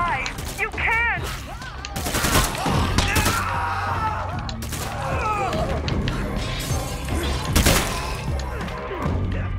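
Dense bursts of rapid gunfire and impacts crash through a video game battle, loud and continuous, with voices talking in between.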